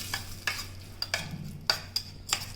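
Curry leaves and cumin are stirred in a hot pan, heard as a regular run of about eight sharp scraping strokes over a low, steady sizzle, close by with no talking.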